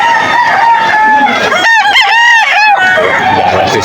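A rooster crows loudly and close by at a busy Christmas-season chicken market in Malolos. Other fowl cluck and people talk in the background.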